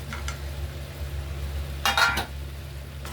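Paneer cubes drop into sizzling masala in a pan for paneer masala curry. A steady frying hiss runs throughout, broken by one brief louder burst of sizzle partway through, with no voices.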